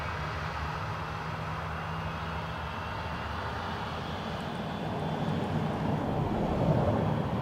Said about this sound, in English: Ryanair from Gatwick.